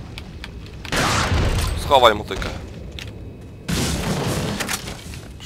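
Explosions in the video game Resident Evil 4 come as two bursts of booming, crackling blasts, with someone talking between and over them.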